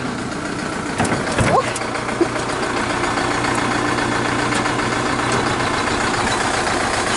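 A DMTZ 544 mini tractor pulling a Bomet potato planter runs with a steady, droning engine at close range, with a few knocks and clanks early on over the constant running noise.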